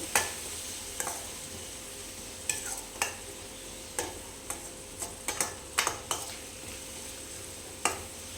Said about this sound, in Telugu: సాల్ట్ వేసుకున్నాక ఒకసారి కలుపుకోవాలి